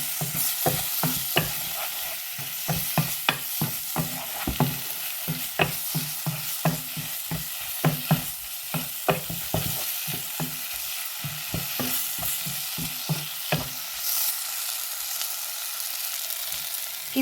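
Turmeric and kuzhambu spice powder are stirred into brinjal frying in a pan. A loud, continuous sizzle runs under rapid, rhythmic scraping strokes of a spoon against the vessel, close up with no voices.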